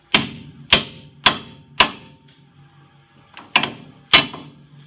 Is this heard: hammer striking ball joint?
yes